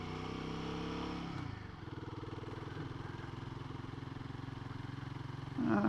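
A vehicle engine pulls away in first gear along country lanes near Matlock, with a steady close throb that dips and then settles into an even, pulsing drone, rising slightly at the end.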